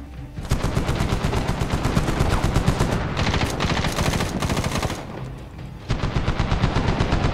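Rapid automatic gunfire in a Medal of Honor firefight, loud sustained bursts of machine-gun shots with a short lull before firing resumes, no talk over it.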